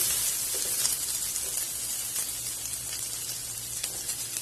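Two large chopped onions sizzle in a hot frying pan, a steady close crackling hiss with small pops throughout.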